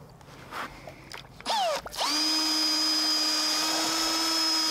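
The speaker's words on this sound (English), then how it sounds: "I went outside and started testing this pump with my power drill." A power drill spins up to drive a 3D printed closed-impeller centrifugal water pump outdoors: a few short clicks and a rising whir, then a loud, steady high-pitched whine held close for the rest.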